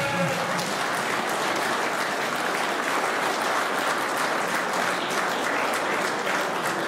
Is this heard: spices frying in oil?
no